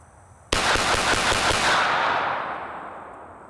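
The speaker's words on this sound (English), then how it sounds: "I'm gonna just shoot as fast and as steady as I can." A rapid volley of pistol shots from a Sig P226 or HK USP, about nine close, loud cracks fired in quick, steady succession outdoors, with the report echoing away afterward.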